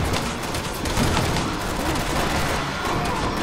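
Dense, continuous gunfire from the video game Resident Evil 6, a steady rattling barrage of shots with no pauses, loud and close throughout.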